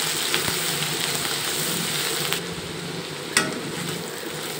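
Onion paste frying in mustard oil gives a steady, even sizzle that stays close and moderately loud, with a couple of brief clicks and no talking.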